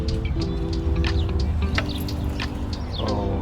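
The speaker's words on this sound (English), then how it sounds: "The birds just saw seeds and plants and decided to look over here." Small garden birds chirp and tweet in short scattered calls near a backyard garden bed, bright and close, over a steady low hum of outdoor background noise.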